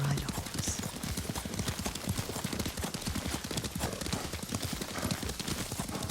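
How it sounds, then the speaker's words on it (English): Horse hooves gallop in rapid, steady clip-clop rhythm throughout, loud and close, from the samurai action video game Ghost of Tsushima, with no talk over the running. "Lord Sakai taught me to ride a horse."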